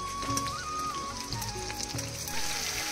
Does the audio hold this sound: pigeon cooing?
no